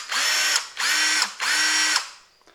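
A Bauer cordless drill from Harbor Freight runs up in three short bursts of even, whirring motor spin, close and loud, each cut off cleanly before a faint click at the end.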